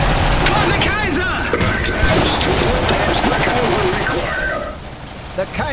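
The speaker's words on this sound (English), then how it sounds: "The Kaiser's receiving enemy fire!" Gunfire in the video game Iron Harvest: dense, continuous machine-gun fusillades and scattered booms crackle loudly throughout, overlapping with shouted voices in the battle.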